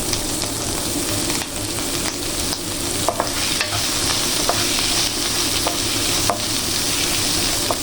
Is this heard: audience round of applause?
no